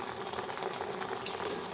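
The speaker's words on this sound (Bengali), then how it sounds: "লবণটা দিয়ে এবারে নাড়তে থাকবো, যতক্ষণ না এই বিটের রসটা একদম শুকিয়ে যাচ্ছে ততক্ষণ অবধি নাড়তে থাকবো" Salted beetroot paste cooking down in a pan while being stirred, a soft, quiet bubbling with light stirring and one small click near the end.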